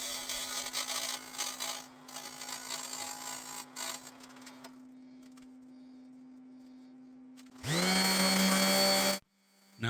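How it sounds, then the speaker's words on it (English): Broadband scraping and whirring as a hand tool shaves wood and epoxy on a spinning wood lathe while turning a candle holder, steady for several seconds, then a louder motor burst near the end before stopping. "I grabbed this tool and started shaving off wood and getting that epoxy off"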